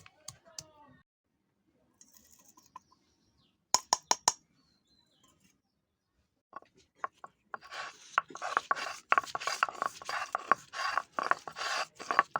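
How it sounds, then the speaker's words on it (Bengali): Ginger and cumin ground on a grinding stone: after scattered faint knocks, a close, steady run of rough rubbing and rasping scrapes builds up and continues without a break. "আদা আর জিরেটা বেটে নেব।"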